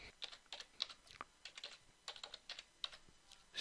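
Computer keyboard typing while keywords are entered in Lightroom: a quick, irregular run of light clicking keystrokes, close and fairly quiet, with no talking.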